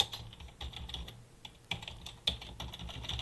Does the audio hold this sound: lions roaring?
no